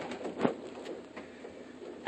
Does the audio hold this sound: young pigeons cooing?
yes